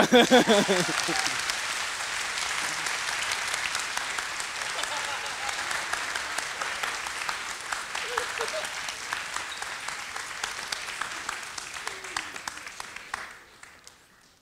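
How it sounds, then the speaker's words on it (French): Audience applause at a live drawing battle between two manga artists at a comic festival, a large crowd clapping steadily for about thirteen seconds, broad and dense, then fading quickly to silence at the end. "On peut l'applaudir alors."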